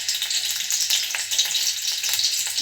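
Garlic frying in a hot pan, a bright, dense crackling sizzle that stays loud and close throughout, with small pops scattered over the steady hiss.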